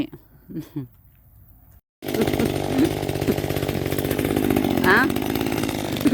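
After some quiet speech, a chainsaw roars to life and runs loud and steady, its engine pitch shifting slightly as it bites into a tree.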